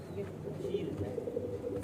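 A female pigeon coos softly in low, repeated murmuring notes, faint and close, with quiet background noise.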